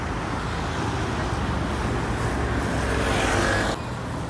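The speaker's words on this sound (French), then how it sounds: "Petite BMW M4 Cap qui va passer." BMW M4 car passing along a Geneva street, a steady broadband engine and road roar that holds fairly loud throughout, building slightly before dropping off near the end amid general traffic noise.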